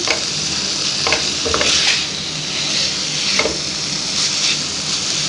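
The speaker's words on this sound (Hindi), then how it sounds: "तो यहाँ पे मैं अच्छे से यहाँ पे इसकी भुनाई कर लूँगी" Stuffed green chillies filled with minced meat, with vinegar added, sizzle steadily in a pan, with occasional clicks and scrapes of stirring over the continuous frying hiss and no talk.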